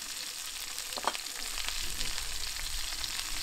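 Peppers and onions hit hot oil in a frying pan on a brick rocket stove, with a brief clatter at the drop followed by a loud, steady close sizzle and no talk.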